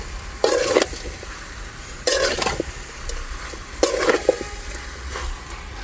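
Chicken with mint sizzles in a hot pan, with three loud scraping stirring bursts rising over a steady low frying hiss.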